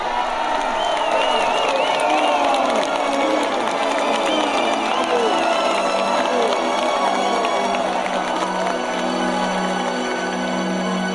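A large crowd of people seeking healing from Bruno Gröning, a dense continuous murmur of many voices with scattered shouts, loud and steady throughout.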